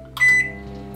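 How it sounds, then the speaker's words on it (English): A microwave oven runs on medium while cooking a chocolate mug cake. It gives a short bright beep, then settles into a steady low hum with a faint tonal whine, close and continuous. "Put it in a microwave for about, I'd say, 3 minutes 50 on the medium setting"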